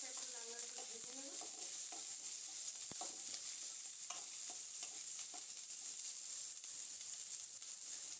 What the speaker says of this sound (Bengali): হালকা করে পেঁয়াজটা একটু লাল লাল করে ভেজে নেব